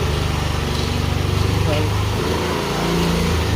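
A father kick-starts a motorcycle outside the house gate; a steady, close low engine rumble runs throughout, with faint voices in the background.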